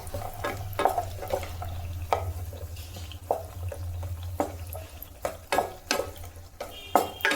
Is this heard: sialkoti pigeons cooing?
no